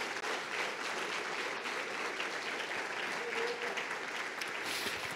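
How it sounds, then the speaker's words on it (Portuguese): A church congregation claps steadily through a worship service, a dense, even wash of applause with a voice speaking faintly beneath it. "Aí aplaudir, aplauda forte."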